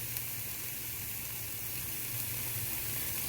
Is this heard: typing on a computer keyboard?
no